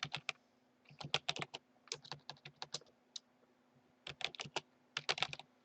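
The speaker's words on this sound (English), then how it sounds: "select ABC, click here, and then type in -1, all caps" Quick bursts of clicking keystrokes on a computer keyboard, close and fairly quiet, in irregular clusters with short pauses and no speech.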